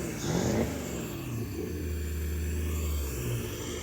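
A rebuilt Mercruiser marine engine running on land out of the water, revving up steadily with a low droning tone that rises and holds, loud and close with no talk.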